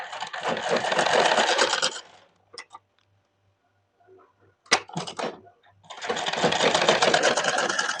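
A sewing machine stitches a folded hem on blouse fabric in two loud, steady runs, with a quieter pause between them that holds a few faint clicks and handling noises.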